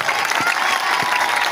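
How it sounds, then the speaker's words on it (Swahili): A crowd at a gathering for the Fizi patriots applauds them, a brisk burst of many hands clapping together, close and full, with a few louder individual claps standing out. "Pata ngopiga wazalendo makofi hapa"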